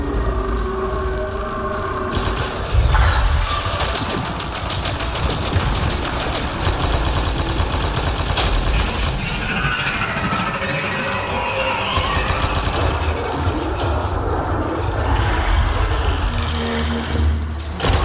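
Gunfire and combat noise from the video game Mass Effect Andromeda, dense bursts of shots and mechanical clatter over a loud, busy battle bed, continuous throughout.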